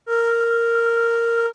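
A single sustained clarinet note blown without the top teeth on the mouthpiece, a steady loud tone with a breathy edge from escaping air, lasting just over a second with no talk.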